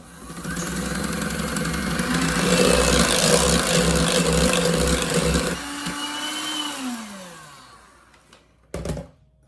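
An electric mixer beats powdered sugar into a no-bake orange creamsicle cheesecake filling. It runs as a loud, steady, close whir with a pulsing motor hum, then winds down and stops, followed by a brief clatter near the end.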